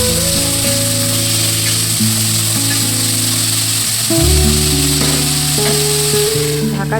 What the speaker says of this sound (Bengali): সর্ষের তেলটা গরম হয়ে গেলে তার মধ্যে দিয়ে দিলাম ডুমো ডুমো করে কেটে রাখা আলু